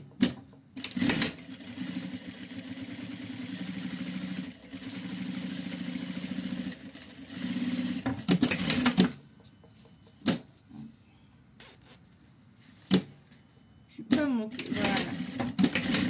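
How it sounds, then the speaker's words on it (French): Sewing machine stitching close to the fabric edge of a lining, a rapid mechanical whirring run for several seconds, then short bursts and stops, with brief talk in between. "je viens coudre au plus près du bord"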